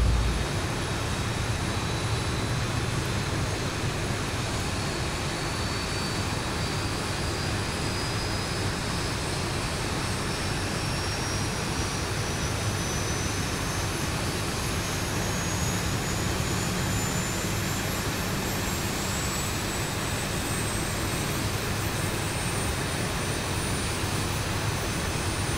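Boeing 737 jet engine number one spooling up during start in the X-Plane 11 flight simulator, a steady loud roar with a slowly rising whine throughout, no talk over it.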